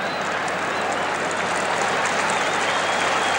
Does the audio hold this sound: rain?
no